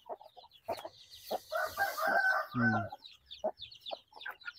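Chickens cluck in short bursts around a backyard poultry pen while a rooster lets out a clear crow midway, close and fairly quiet with brief gaps of silence.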